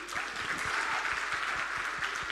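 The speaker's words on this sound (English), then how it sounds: "A round of applause for him." Audience applause for a grade 6 student at a science buskers festival, a steady wash of many hands clapping at moderate distance, fairly soft and continuous throughout.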